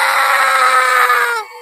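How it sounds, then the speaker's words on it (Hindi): A man's loud, sustained scream, voice-acted in a Hindi horror story, rings out for about a second and a half before breaking off abruptly. "तभी गोपी की चीखने की आवाज आती है।"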